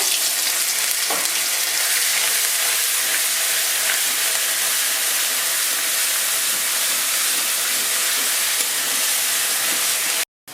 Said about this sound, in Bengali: এবার আমি জিরে ফোড়ন দিয়ে দিচ্ছি আর দুটো তেজপাতা দিয়ে দিচ্ছি